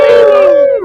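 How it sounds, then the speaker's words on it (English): A stream subscription alert plays a loud, sustained howling tone that slides downward and fades within a second; no distinct barked commands stand out. "all kinds of barked commands and somebody howling in pain"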